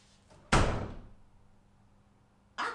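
A door bangs shut once at close range with a sharp thud that rings down slowly, and a second impact starts just as the sound cuts off.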